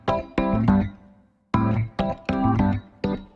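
Piano chords from an FL Studio piano roll play a short melodic phrase, several struck chords with slight strummed spread, ringing briefly with a gap in the middle, clear and alone without speech.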